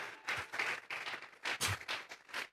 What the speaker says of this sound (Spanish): regálele ofrenda de palmas al Dios de la gloria